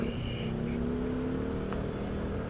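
A car passes on a town road, heard from a moving motorcycle as a steady, loud engine drone with a brief swell of passing traffic and no talking.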